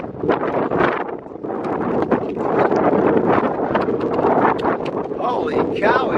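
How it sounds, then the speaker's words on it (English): Extreme wind buffets the microphone in loud, rumbling gusts that rise and fall throughout, with a voice briefly heard beneath it. "Holy cow, it's windy as hell."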